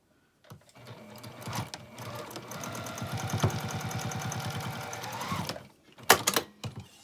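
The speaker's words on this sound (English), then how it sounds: "we're just going to sew with a 1/4 inch seam down both sides" A close sewing machine hums and chatters steadily through a long continuous run down a 1/4 inch seam on a small fabric basket, followed by a couple of short clunks as it stops.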